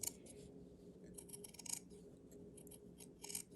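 Sharp scissors snip through fabric with a run of quick, close, crisp cuts, bursts of clipping interspersed with light rubbing of the cloth.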